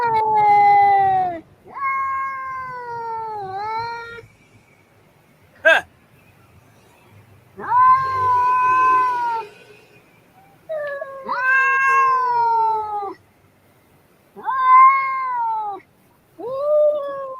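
A female cat in heat caterwauling in a recording, a series of long, wavering, drawn-out yowls in separate bursts with short pauses between, loud and close, plus a brief sharp sound in one gap and a single short word spoken.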